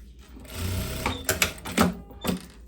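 A sewing machine stitching the collar onto a lace dress, running in short bursts of rapid mechanical whirring with pauses between, close and clear.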